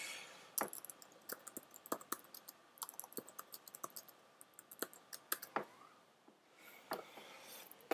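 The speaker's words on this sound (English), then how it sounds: "we can just type in whatever we want" Quiet, close typing on a computer keyboard, irregular bursts of light clicking keystrokes with brief pauses, ending in a louder click.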